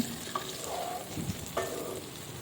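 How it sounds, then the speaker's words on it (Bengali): Chopped tomatoes and partly cooked potatoes fry together in a pan, giving a steady close sizzle with a few soft stirring scrapes. No one speaks. "টমেটোগুলোকেও আলুর সঙ্গে একটু ভেজে নেব ভালো করে"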